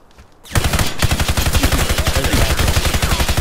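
A heavy-recoil gun in the Warface shooter opens up after a brief quiet moment and keeps firing in a loud, rapid, evenly spaced automatic burst until the end.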